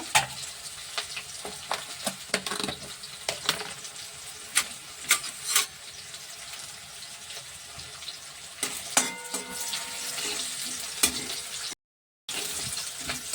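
Rohu fish pieces sizzle steadily in hot oil, browning for a festive rui macher kalia, with scattered sharp clinks and stirring scrapes over a dense hiss, plus one brief silent gap near the end.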